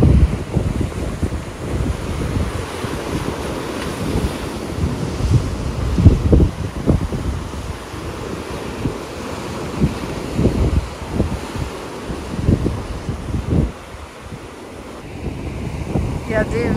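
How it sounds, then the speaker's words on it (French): Rough sea surf rolls and crashes repeatedly beside a seaside town with stone balconies, heavy wind buffeting the microphone between the loud, irregular wave impacts. "La mer qui se déchaîne."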